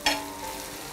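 Food sizzles and fries in ghee on a thick, heavy iron tawa, a steady close crackling hiss with a brief louder burst near the start, and no voices.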